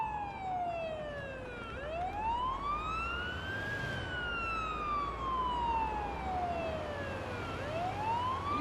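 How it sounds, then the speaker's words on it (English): Ambulance siren wailing steadily while riding to the hospital with lights on, a loud rising and falling wail that sweeps up and down over constant road and engine rumble. "we're going to create more stress driving to the hospital lights and sirens"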